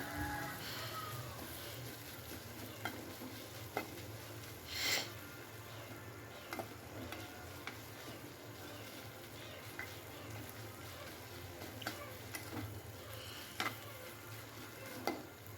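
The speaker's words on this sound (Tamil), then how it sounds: "இஞ்சி பூண்டு பேஸ்ட்டு எடுத்து போட்டு அதே ஒரு 2 கலக்கிக்கோங்க" Ginger garlic paste frying with onions for a liver gravy, stirred steadily in the pan: a continuous sizzle with scraping spoon strokes and occasional louder clinks, close by, no talking.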